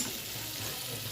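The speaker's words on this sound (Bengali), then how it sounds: "এদেরকে মশলাটা দিয়ে একটু ভেজে নেবো" Potatoes frying with spices in a pan give a steady, soft sizzle with a faint stirring scrape, close and even throughout, with no voices.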